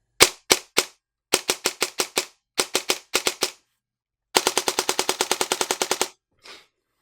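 Airsoft gun with a DSG gearbox firing on precock: sharp, snappy mechanical shots, first in short separate bursts, then a rapid, evenly spaced run of about twenty shots, close and crisp, with no talking.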